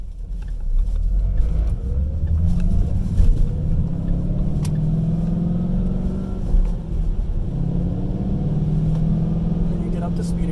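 A car pulls away and climbs back to cruising speed after braking at a red light, its engine a steady low rumble whose tone gradually rises, heard close up from inside the cabin throughout.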